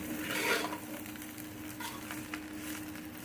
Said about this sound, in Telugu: రైస్ వేసుకున్న తర్వాత మొత్తం ఒకసారి ఇలా కలుపుకోవాలి మొత్తం మిక్స్ అయిపోయేటట్టు కలుపుకోవాలి